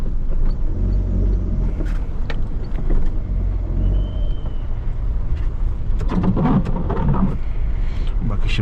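Road traffic on the narrow streets of Shimla, heard from inside an Alto car: a steady, close low rumble of engines and tyres runs through the whole stretch, with brief louder passing noises near the end.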